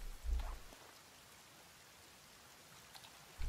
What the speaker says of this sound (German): Ey, es regnet wieder.